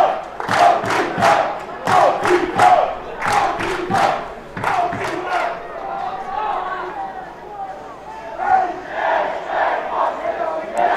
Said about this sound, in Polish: Niech cały stadion śpiewa razem z nimi.